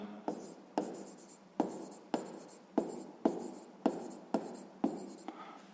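Pen or pencil writing out a math solution on paper, a series of short brisk strokes in a regular rhythm, close and quiet, with no one speaking.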